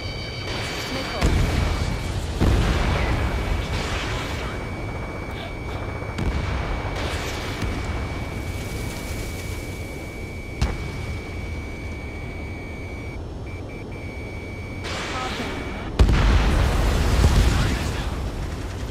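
Missiles and explosions boom through a battle in the video game Ace Combat 7, with dense rumbling blasts and gunfire running throughout, broken by sharper bursts and intermittent radio voices.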